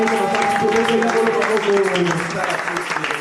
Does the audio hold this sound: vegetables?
no